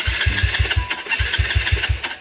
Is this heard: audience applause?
no